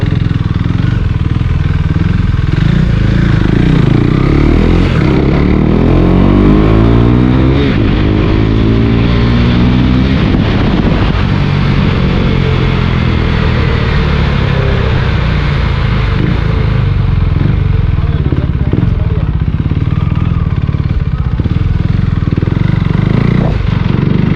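A KTM Duke motorcycle engine drones loudly and continuously during a ride, rising and falling through revs with wind rush and mechanical clatter, recorded close to the bike throughout.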